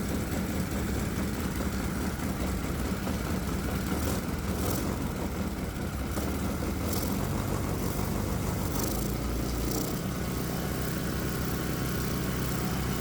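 A 212cc Predator engine on port fuel injection idles loudly and continuously close by, its low drone rising and falling slightly as the throttle hunts, with no talking over it.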